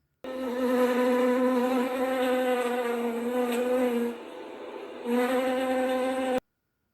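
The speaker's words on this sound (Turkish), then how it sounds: "arılar vız vız diye ses çıkartır" A bee buzzes steadily with a bright, droning hum, pausing briefly for about a second before resuming, then stopping abruptly.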